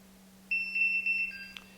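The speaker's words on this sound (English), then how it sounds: "it's going to give me 3 loud beeps to tell me that I've done a successful zero" Electronic beeping tones, clear and steady, repeating from an MSA AltAir 4X gas detector close by after a successful zero calibration, ending with a short click; no talking.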